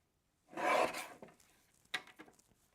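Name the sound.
cutting a paper card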